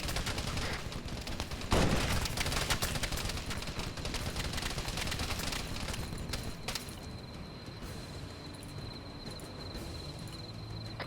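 Rapid bursts of gunfire in a sci-fi shooter video game, a dense, fairly quiet crackle of continuous shots with one sharper burst early on.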